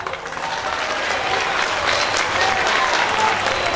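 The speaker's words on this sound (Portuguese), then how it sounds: "Vamos saudar com calorosa salva de palmas ao violão" Sustained applause from a concert audience at an instrumental music and dance show, greeting a guitarist as he is introduced; steady, dense clapping fills the whole stretch at full volume.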